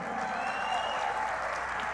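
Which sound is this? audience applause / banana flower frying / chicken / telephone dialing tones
audience applause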